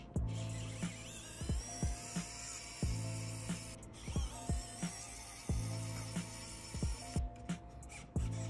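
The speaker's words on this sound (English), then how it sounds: "We're gonna remove these Phillips screws that hold the heatsink clamp on." Phillips screws are backed out of the heatsink clamp inside a PS4 Pro console, heard as a close, rhythmic run of repeated clicking pulses over a steady mechanical hum.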